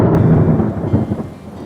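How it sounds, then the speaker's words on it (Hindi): Loud, deep thunder rolls over the sound of heavy stormy rain in Mumbai. The rumble is close and full at first, then fades into the steady rain. "बिजली चमकने लगी और फिर तेज गड़गड़ाहट की आवाज आई। तूफानी बारिश हो रही थी।"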